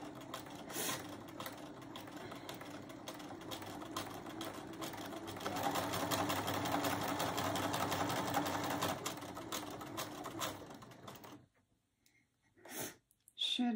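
A sewing machine stitches a fold and stitch wreath, running in a steady continuous whir for several seconds before stopping, with a short burst of stitching afterward and quiet breathing nearby.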